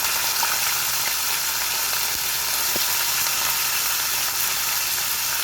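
Carom seeds and asafoetida crackling in hot oil, a loud, dense, continuous sizzle that stays even from start to finish with no voices.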